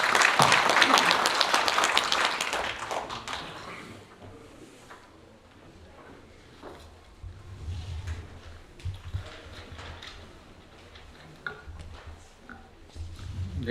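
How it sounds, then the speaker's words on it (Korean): Audience applause welcoming a government official at a ceremony marking the 106th anniversary of the Korean Declaration of Independence, a loud burst of clapping for a few seconds, then scattered thumps and footsteps as he approaches. "박수 맞이해 주시죠"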